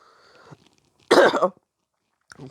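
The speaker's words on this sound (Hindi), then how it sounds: "गला में खांसी आ जा रहा है" A single sharp, loud cough close by, bursting out after a moment of quiet, followed by a faint rustle.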